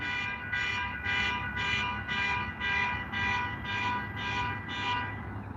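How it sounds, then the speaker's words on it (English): A car alarm blares outdoors near a cemetery, a loud harmonic tone pulsing in about ten steady, evenly spaced bursts with no talking. "Somebody's car alarm."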